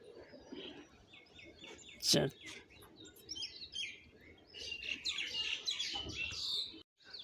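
A pet budgerigar pair chirps and chatters in quick, faint bursts throughout, with a voice speaking over the birds.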